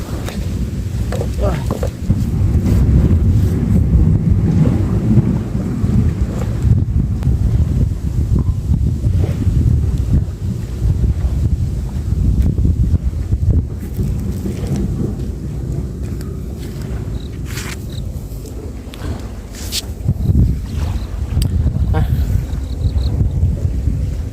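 Strong wind roars and buffets the microphone continuously during sea fishing from a boat, with a low, loud rumble and gusts throughout; a voice talks briefly over it.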